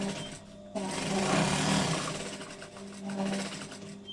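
Sewing machine stitching a quilt, a steady close mechanical whir running almost continuously after a brief quiet start.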